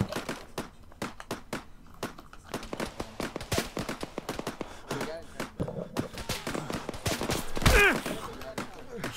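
Gunfire in a military shooter game set in a desert: rapid crisp shots, single cracks and short bursts, some near and some farther off, with a sharp louder blast near the end, continuous throughout.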